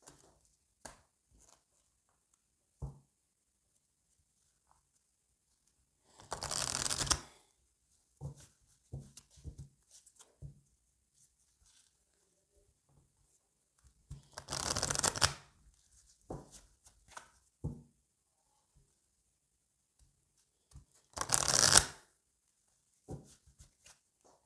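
Oracle cards shuffled and laid out, with three distinct riffling bursts of card shuffling spread apart and scattered light taps and card placements between them, close and fairly quiet, with no talking.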